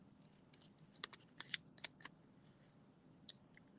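Scissors snipping paper to cut out a paper-pieced stamped figure for a card, a series of short, crisp, close cuts in irregular bursts with quiet pauses between.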